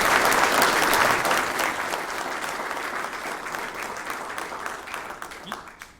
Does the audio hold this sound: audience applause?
yes